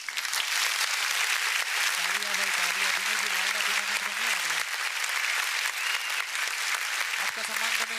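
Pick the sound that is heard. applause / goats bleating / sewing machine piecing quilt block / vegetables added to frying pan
applause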